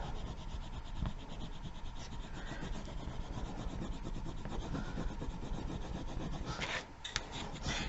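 A transfer is rubbed onto a Dollar Tree tray for a DIY eucalyptus project, giving a steady, close, continuous rasping scrub that keeps its level throughout, with no talk.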